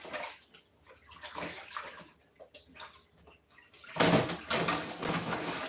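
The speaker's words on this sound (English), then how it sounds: "I go ahead and wash them and dry them" Stackable nesting bowls are washed in water at a kitchen sink, with sloshing, splashing and light clinks that swell into a louder, steady rush of running water near the end.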